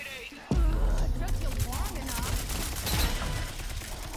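Rogue Company match gunfire erupts with a sudden burst and rattles on continuously beneath an excited voice talking over it.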